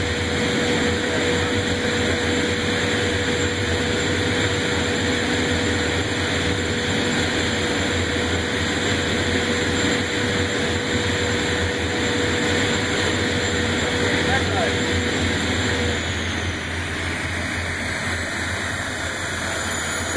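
An F109 jet engine running in a test cell gives a loud, continuous roar with steady high whine tones, unbroken for the whole stretch and heard alone without voices.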